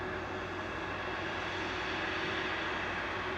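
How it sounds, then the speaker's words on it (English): A Lufthansa airliner in classic livery taxiing out at Manchester Airport, a steady loud whining jet engine roar with a constant hum, no voices. "Lufthansa in a classic livery taxiing out"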